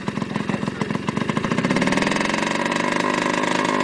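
A motorcycle engine runs close by, sputtering unevenly at first, then settling into a steady, loud rumble as it revs slightly.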